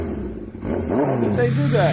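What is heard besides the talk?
motorcycle engine revving in Tomb Raider (video game)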